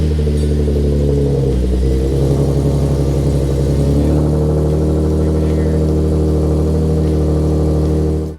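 A Nissan 370Z Z34 engine runs close by, a loud steady idle with a brief rise in revs early on before settling into an even hum until it cuts off.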